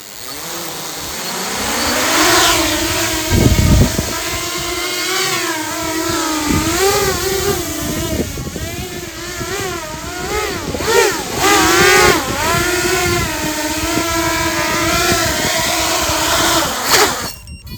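The motors of a 10-inch FPV cinelifter drone hovering nearby give off a loud, buzzing whine that rises and dips in pitch as the throttle shifts, with a few thumps and gusts of rushing air.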